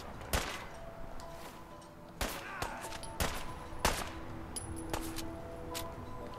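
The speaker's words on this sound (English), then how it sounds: "I'm sitting here shooting Longfellow." Gunfire in Fallout 4 during the Far Harbor expansion at Acadia, including shots from a repeater: sharp, isolated cracks spaced irregularly over a quiet background, fairly faint overall.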